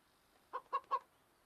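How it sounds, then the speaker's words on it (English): A video game chicken gives three quick, short clucks in a row, fairly soft over quiet background hiss. "There's a chicken."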